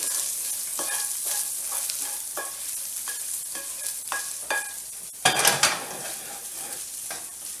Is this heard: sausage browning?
yes